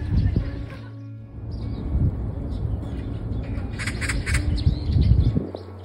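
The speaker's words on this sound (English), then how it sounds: "Oh, listen to the birds." Birds call and squawk in a city park in Seoul on a cold February day, sounding moderately near over a busy wash of traffic and city noise, with bursts of bright chirps.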